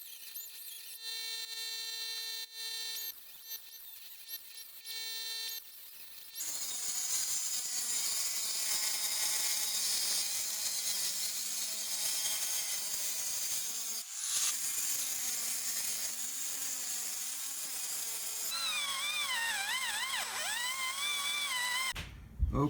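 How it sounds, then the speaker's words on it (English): Angle grinder and die grinder cutting out rusted-through truck body metal around a torque box, with steady high-pitched whining runs that shift pitch and pause between cuts; no talking. "I'm using an angle grinder, a die grinder. I'm using a couple of different things to cut this out."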